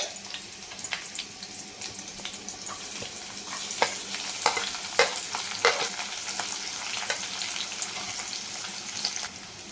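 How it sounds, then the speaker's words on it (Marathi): Onion frying with curry leaves in a kadhai for a black pea curry, a continuous crackling sizzle with frequent sharp stirring scrapes, close and fairly loud. "कांदा परतून घ्यायचा आहे"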